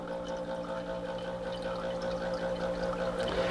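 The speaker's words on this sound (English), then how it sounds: "I'm filling up the glass with the water" Clear water drawn from the secondary container of an oil-water separation unit runs steadily into a glass, a continuous close pour with a low machine hum underneath and no speech.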